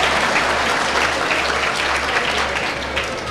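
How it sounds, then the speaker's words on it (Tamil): A live studio audience at a Tamil debate show claps loudly and continuously, a dense wash of hands with a low steady hum beneath it. "அதுக்கு ஒரு கைத்தட்டல் கொடுங்க"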